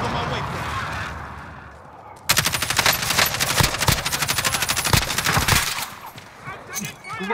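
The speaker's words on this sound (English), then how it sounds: "They shooting up here." Sustained automatic gunfire in Call of Duty: Modern Warfare, a fast rattling burst lasting several seconds at close range, with brief voices before and after.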